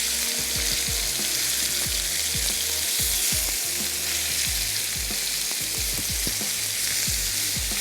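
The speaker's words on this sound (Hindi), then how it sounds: "चिकन को हमने ग्रिल होने के लिए रख दिया है" Chicken grills for a handi, a loud, dense, unbroken sizzle with constant crackling and spitting, joined by frequent low thuds and taps close by.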